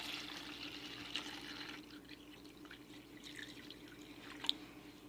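Water trickles and splashes softly at close range, a quiet uneven pour with small drips and one brighter splash near the end.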